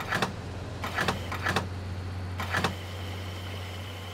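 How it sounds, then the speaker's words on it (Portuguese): A diesel truck engine idles in American Truck Simulator at a fuel stop, giving a steady low drone throughout. A few short mechanical bursts, like clicks or hisses, rise briefly over it before it continues alone. "Olha o som do diesel."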